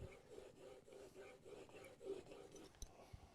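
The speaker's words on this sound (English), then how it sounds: "what I'm doing is basically putting a bevel, very slight bevel, on the front edge of that blade" A blade is honed to a slight bevel on a sharpening stone, producing a soft, continuous rasping scrape with rhythmic back-and-forth strokes, close and fairly quiet.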